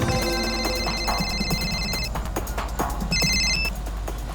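A telephone rings for an incoming call, with two bursts of bright electronic trilling, a long one followed by a shorter one after a pause, up close over a low background hum.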